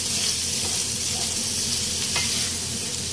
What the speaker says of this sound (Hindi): और इसको अच्छी तरह कीमे में हमें मिला देना है।